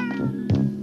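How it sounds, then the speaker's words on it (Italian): A cat gives a few short, loud, close meows, one after another over under a second, with a strained, whining tone and no talking. "Adesso pure i gatti."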